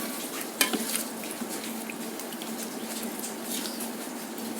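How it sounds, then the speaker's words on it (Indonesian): Sweet and sour crab frying in plenty of oil is stirred in a pan, giving a steady close sizzle with soft scraping and a sharper clink near the start. "Oke, kita aduk lagi."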